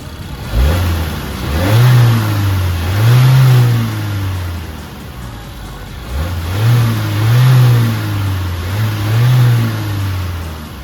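A Chery Omoda 5 GT's 1600cc turbocharged engine fires up close by, then rises through two strong revs with a drop back to idle between them, loud and clear with no talking.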